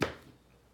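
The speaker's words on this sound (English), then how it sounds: "I was able to cut them like cut the halves like 4 times long ways, and then slice them" A knife cuts through a sweet potato on a board, one short crisp chop at the start that fades quickly into quiet.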